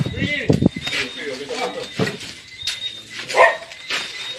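A dog gives short barks and whimpers amid loud, overlapping human talk outdoors.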